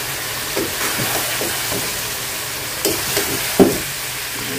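Sea fish frying in hot oil in a pan, a soft steady sizzle with a few scraping stirs of a spatula, close and fairly quiet, with no voices.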